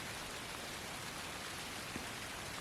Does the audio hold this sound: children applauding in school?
no